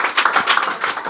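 Students and families clap hard at a Class 10 prize distribution and exam results event, a short run of sharp, rapid handclaps, close and energetic.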